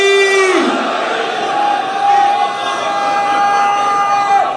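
A crowd of mourners at a Shia majlis gathering in Bahawalpur roars out a religious slogan in unison, loud and close, with a drawn-out sustained voice ringing over the massed shouting.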